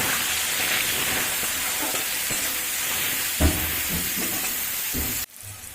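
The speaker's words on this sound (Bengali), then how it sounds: "দিয়ে উচ্ছেটা লাল লাল করে ভেজে নেব।" Bitter gourd fries with salt and turmeric in hot oil, giving a steady close sizzle with a few stirring scrapes and a brief bump before the sound cuts off abruptly.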